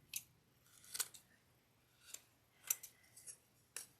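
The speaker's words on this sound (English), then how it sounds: "I'm going to use my scissor to trim this down a little bit." Scissors snip several times in short, quiet, crisp cuts, trimming the excess from a fake bake Easter sugar egg, with pauses between cuts and no talking.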